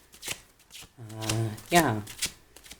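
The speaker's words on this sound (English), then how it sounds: "I'm already shuffling if you can't hear it." Tarot cards being shuffled in quick riffling bursts, close by, with a voice talking over much of it.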